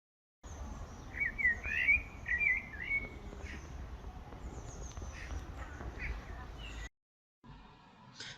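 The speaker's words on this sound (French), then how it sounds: "je vous laisse découvrir les images déjà avec ce chant d'oiseau" Birdsong in a town park: a small bird's quick chirping trills early on, then fainter calls over a steady outdoor background hum, ending in a brief silence.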